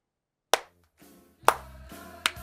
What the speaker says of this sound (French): Et si on peut applaudir Pierre Chabrier